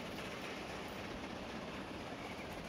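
In the train simulation game Transport Fever 2, a train runs along the track with a soft, continuous rolling rumble, faint and even throughout, with no voices over it.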